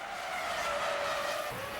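A Formula 1 car on dry tyres skids on a wet 2001 Malaysia circuit under heavy braking, giving a loud, continuous tyre squeal with a falling pitch over a couple of seconds, with no voices.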